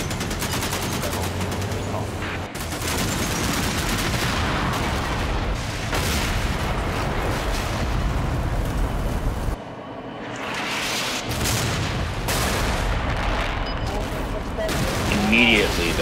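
Challenger tanks firing on Syrian forces in Combat Mission: Shock Force 2, a dense continuous barrage of gunfire and heavy booms with a brief lull midway, loud throughout.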